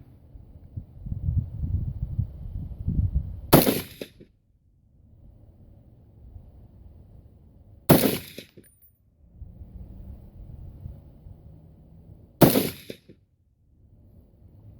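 Three loud, sharp gunshots from an unsuppressed KelTec RFB rifle at an outdoor range, spaced about four seconds apart, each cracking out over quieter rustling and handling noise.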